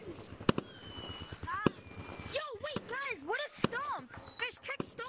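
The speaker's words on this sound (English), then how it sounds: "Yo, the fireworks." Fireworks launched from a machine in the game Gorilla Tag crackle and pop in sharp bursts and whistling rising tones, several in quick succession, under excited overlapping voices.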